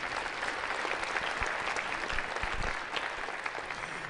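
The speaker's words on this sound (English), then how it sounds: "let's give them all a round of applause" An audience at a school district leadership meeting claps steadily, a dense, even wash of applause filling the room throughout.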